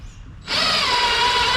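A power drill drives screws into a screen door, starting abruptly and holding a loud, steady whine up close after a brief quieter moment.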